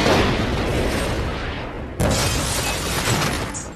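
A crackling, roaring rumble is followed by a sudden, loud blast that keeps roaring afterward, as a parcel bomb blows up a car nearby.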